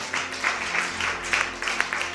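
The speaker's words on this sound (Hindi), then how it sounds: "ये अब वक्त है ताली बजाने।" A church congregation applauds during a sermon, giving a continuous, moderately loud wash of clapping with a few brighter swells.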